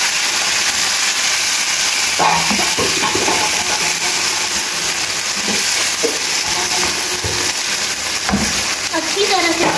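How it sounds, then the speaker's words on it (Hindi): Chicken fries in a pan with a steady, loud sizzle and hiss throughout, while a person talks over it. "अब हम चिकन को फ्राई करेंगे"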